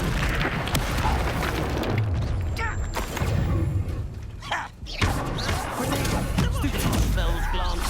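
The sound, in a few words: Incendio fire spell burst in Hogwarts Legacy video game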